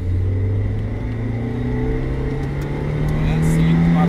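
A car engine revs hard close by, its pitch climbing steadily as it winds up through the range, loud and continuous.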